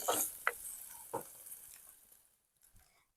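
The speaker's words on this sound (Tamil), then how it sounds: "இங்கால பாத்தீங்கன்னு சொன்னா வெங்காயம் வந்து பொரியட்டு" Chopped onions and green chillies sizzling in a pan, a soft frying hiss with a few faint pops and stirring scrapes that fades toward the end, with no talking.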